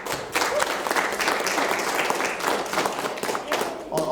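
An audience claps for an honoree at a civic bike-to-work and Vision Zero event, a full burst of applause from a crowd filling the room, close and lively, with voices mixed in.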